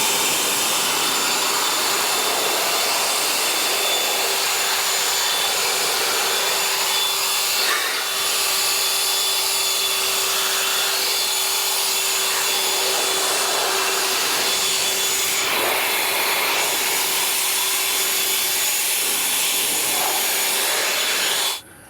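An Ego cordless stubby leaf blower runs steadily and loud for about twenty seconds with a constant high whine and broad airy rush, briefly dipping in intensity twice before cutting off at the end.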